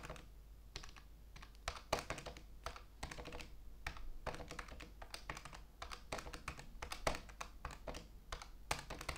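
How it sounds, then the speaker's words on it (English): Rapid clicking of keys on a computer keyboard, steady and close, in quick irregular bursts with no voices. "let me just do some ASMR typing."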